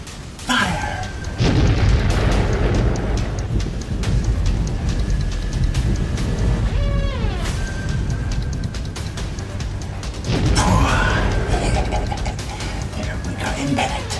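A torpedo explosion in a submarine video game, with a loud deep boom and rumbling burst sustained over several seconds and a second surge later, under a steady low game drone.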